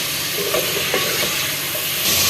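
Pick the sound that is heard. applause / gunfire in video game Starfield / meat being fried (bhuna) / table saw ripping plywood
meat being fried (bhuna)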